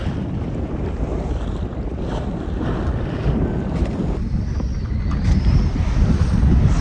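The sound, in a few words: wind and sea while sailing a Contessa 26 yacht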